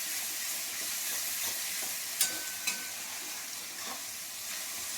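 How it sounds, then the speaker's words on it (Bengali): Onion and spice masala with salt being sautéed in a pan for chicken kasha, a steady soft sizzle with faint stirring and a couple of light utensil taps, with no voices. "এটা এখানে কষা হচ্ছে"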